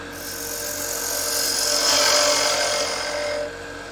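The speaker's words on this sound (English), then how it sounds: "So we're going to go ahead and take our skew chisel. We're going to straighten up this end." A skew chisel cuts against a square wood blank spinning on a lathe, trimming its end, heard as a steady, close whirring scrape that swells in the middle and eases off near the end, with no talking.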